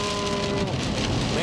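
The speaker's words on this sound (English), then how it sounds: "It's got a lot of rain here." Heavy rain pours steadily on a vehicle driving south on the I-75 highway, a loud continuous wash of spray and road noise with trucks nearby.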